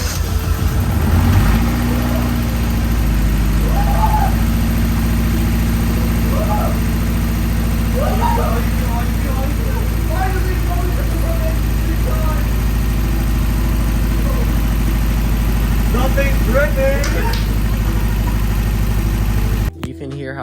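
A Honda EK car starts after a cylinder head rebuild and then settles into a steady, loud idle that runs for about twenty seconds before cutting off abruptly.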